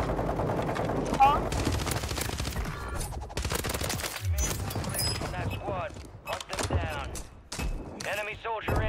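Bursts of automatic gunfire in a shooter video game, rapid stuttering volleys with thuds and effects, while a player talks over the shooting throughout.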